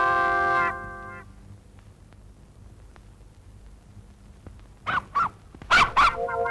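A mimicry artist imitates a dog barking, a sustained vocal tone opening the sequence before four sharp, loud bark-like bursts arrive close together near the end, separated by quiet room noise.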